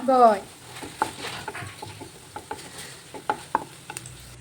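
Turmeric powder frying in a pan while being stirred, for a green bean stir-fry, with a soft sizzle under scattered scraping and tapping of the spoon against the pan, close up.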